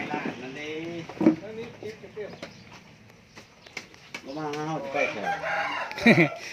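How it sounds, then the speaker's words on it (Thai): A rooster crows repeatedly outdoors, its drawn-out calls rising and falling among clucking fowl while people talk nearby. "ไก่เลยเนาะพ่อเนาะ"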